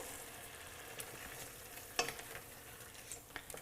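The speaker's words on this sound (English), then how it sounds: "We're coming back with a nice simmer" Shrimp fra diavolo sauce simmers in a pan, giving a soft, steady sizzle. Light utensil clinks and scrapes break through now and then, with one sharper knock partway through.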